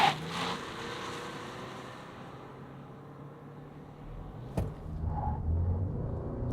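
A 2025 Toyota Kluger in sport mode with traction control off accelerates hard from standstill, a steady engine drone that holds low and rises into a louder, deeper surge toward the end.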